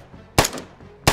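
Two loud, close gunshots ring out in ARMA 3 combat, each a sharp crack with a brief ringing tail, spaced well under a second apart.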